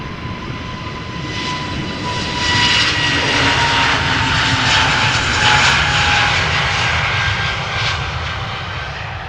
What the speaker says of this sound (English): EasyJet A320neo outbound to Nice in France